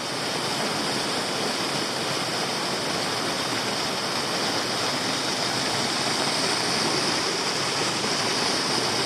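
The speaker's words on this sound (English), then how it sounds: "On the ledge between some of the cascades, you can look down over most of the drop." Regnans Falls in Tasmania pours down in tiered cascades, a loud, steady, broadband roar of falling water that fills the scene without pause and with no voices.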